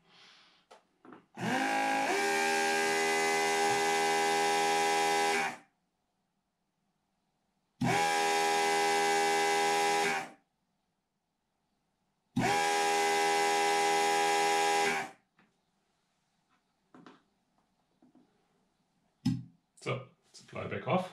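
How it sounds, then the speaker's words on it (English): A vacuum pump motor under an electronic controller hums loudly in three separate runs, each starting abruptly and cutting off after a few seconds as vacuum builds, with brief clicks and faint voices between. "we expect the pump to start"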